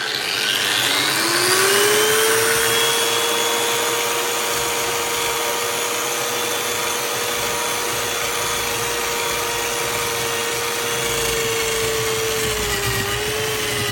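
A Parkside floor and wall sander runs close and loud with a steady motor whine and a broad, even roar that holds throughout, and the pitch dips slightly near the end.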